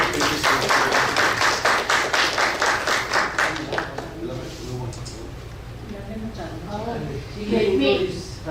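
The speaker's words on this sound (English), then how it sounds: "please give a round of applause" Applause from the audience at an interfaith Harmony Week event: a burst of loud, dense clapping close by fades out after about four seconds, and voices talk through the tail and the quieter stretch that follows.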